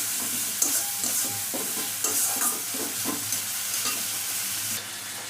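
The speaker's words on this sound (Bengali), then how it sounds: "আমি মশলাটা কষিয়ে নিচ্ছি সামান্য একটু।" A spice paste stir-fries in a pan before ash gourd goes in, with a continuous close sizzle and a spoon scraping in repeated uneven strokes, no talking.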